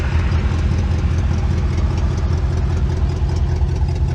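A 1962 Chevy Impala with a rebuilt 283 V8 idles close by, a loud steady low rumble with an even pulsing throb and no talking over it.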